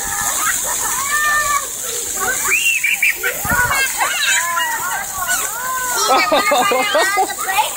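Water splashes and sloshes continuously while children shriek and shout excitedly nearby, their high voices overlapping the spray.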